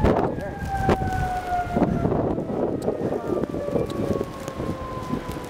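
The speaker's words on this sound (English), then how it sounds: "That's a really close siren." A nearby emergency siren holds a long wailing tone through blizzard wind, loud and continuous, while people talk over it.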